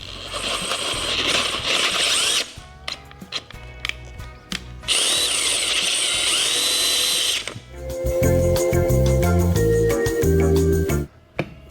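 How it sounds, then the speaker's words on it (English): Power drill fitted with a Forstner bit boring into wood, loud and close, in several bursts of whining motor and grinding cut separated by brief pauses. "So this is a Forstner bit intended to be used in a press."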